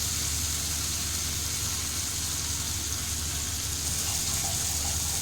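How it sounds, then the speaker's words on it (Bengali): Hilsa fish frying slowly in oil with black cumin and turmeric, a steady, even sizzle and hiss running throughout with no talking. "তো এইভাবে আস্তে আস্তে ভাজা হোক।"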